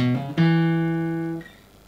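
Quick guitar phrase from a solo, a few fast notes with hammer-ons, heard alone and close, then ringing out briefly before fading.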